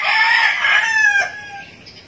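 A fighting rooster crows once, loud and close, the call trailing off at the end.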